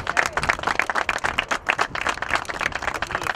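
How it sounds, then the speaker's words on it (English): Applause for building trade unions at a Bridgeport announcement, a crowd clapping steadily and briskly throughout, fairly close and loud, with no pause or break. "give them a big round of applause"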